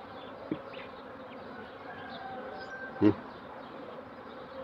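Honeybees buzz around an open beehive during a hive split, a close, continuous drone with a couple of brief knocks from handling the frames.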